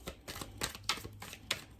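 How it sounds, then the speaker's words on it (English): A deck of tarot cards being shuffled close by, giving quick irregular riffling and slapping bursts with no voices. "So I'm going to start out with some tarot. Go ahead and shuffle the deck."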